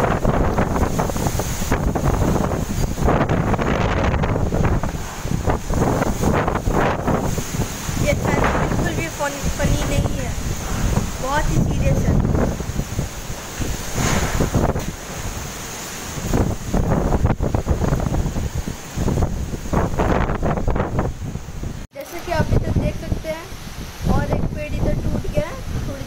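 Strong, gusty wind roars and buffets the microphone continuously during Cyclone Fani, with rain adding to the rushing noise.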